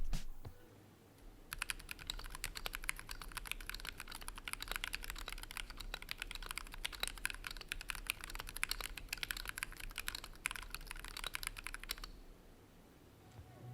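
Steady typing on a mechanical keyboard fitted with CTID Azurite switches, a dense run of quick close keystrokes giving a deep, rounded clack that stays even and fairly quiet for about ten seconds, with no talking.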